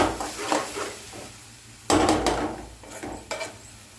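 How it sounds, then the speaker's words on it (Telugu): A spoon stirs ridge gourd and dried prawn curry in a pot, with soft scraping and wet shuffling, a louder clattering burst midway and a few sharper knocks near the end, close by and with no voices. "ఇదంతా కలబెట్టుకొని మూత పెట్టి కొద్దిసేపు ఉంచాలి"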